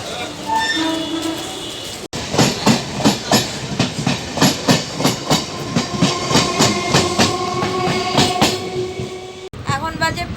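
A passenger train rolling along the tracks, with rhythmic clickety-clack beats from the wheels over steady rumbling noise, heard from inside the carriage.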